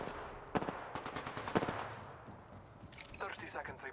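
Rapid machine gun fire in Apex Legends, a fast rattling burst of shots at moderate distance, followed by sharper scattered gunfire and game effects.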